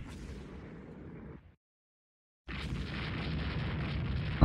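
Battle cruisers blowing up from torpedo hits in a naval battle video game: heavy rumbling explosion blasts that fade out, a second of silence, then another loud sustained roaring explosion.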